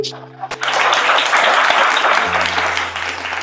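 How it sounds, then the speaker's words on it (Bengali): An audience at a jewellery store family event claps together in a dense burst of applause lasting a few seconds, close and loud, with a brief voice at the very start and music underneath. "আপনারা একটা হাততালি দিতে পারেন?"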